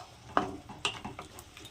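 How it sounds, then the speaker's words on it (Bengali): Grated carrot frying with salt and sugar in a pan, a faint sizzle broken by a few spatula scrapes and taps, quiet and close. "এবার গাজরটাকে আমি একটু ভাজা করে নেব।"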